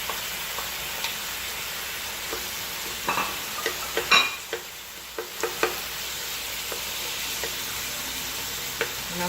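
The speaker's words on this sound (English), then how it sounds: "now I'm going to put the onions and peppers in" Onions and peppers sizzle and fry in a pan with steak, a steady soft crackle broken by scattered sharper pops and clinks of stirring, with no voices.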